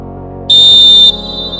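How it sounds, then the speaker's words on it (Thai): A futsal referee blows one long, heavy whistle blast signalling a restart: a loud, steady shrill tone lasting over half a second, then silence. "สัญญาณที่ 1 ลูกเริ่มเล่นทุกกรณี ลูกฟาว ลูกที่เข้าเป็นประตูไม่ชัดเจน ใช้สัญญาณนกหวีด หนักยาว"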